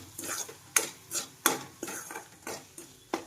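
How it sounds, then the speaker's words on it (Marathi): Tomatoes with a pinch of salt being sautéed in a pan, a utensil scraping and clacking in about nine sharp, evenly spaced strokes over a faint sizzle, close up with no talking. "टमाट्यामध्ये थोडंसं मी टाकलं ना लवकर हे होतो असा मस्त परतून घ्यायचा"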